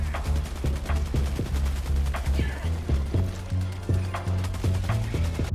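Heavy machine gun fire in Helldivers 2, rapid repeated bursts of low thudding shots in a steady rhythm, loud and close over a dense battle bed, with a voice talking over it.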